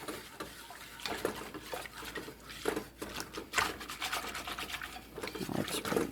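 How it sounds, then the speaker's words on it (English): Butterscotch pudding mixture being whisked in a bowl at home, a quick close scraping and rubbing rhythm of the whisk, fairly faint, with occasional soft voices in the background. "I like to use the whisk. So it just seems to mix everything quicker"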